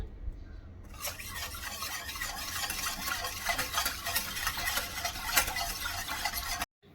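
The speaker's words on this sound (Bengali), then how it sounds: "গ্যাসের ফ্লেম অন করে আমি কড়াইটা বসিয়ে দিয়েছি আর এইভাবে অনবরত নাড়তে হবে" A spatula stirs papaya papad batter in a wok over a gas flame with steady, repeated scraping and soft sizzle. It starts quietly and cuts off abruptly near the end.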